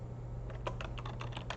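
Quick bursts of typing on a computer keyboard while entering a date into an Excel bookkeeping spreadsheet, a short run of close, crisp key clicks over a low steady hum.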